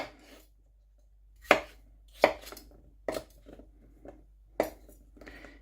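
Knife chopping potatoes and carrots into even, fairly large pieces on a board for roasting, five sharp separate chops spaced about a second apart with quiet pauses between, close up and alone.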